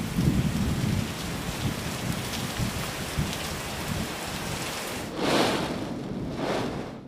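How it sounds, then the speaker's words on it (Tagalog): Super Typhoon Nando in Santa Ana, Cagayan: heavy rain roars continuously with strong wind, and a couple of louder whistling gusts surge near the end. "marinig ang sipol na hangin ng Super Typhoon Nando sa Santa Ana, Cagayan"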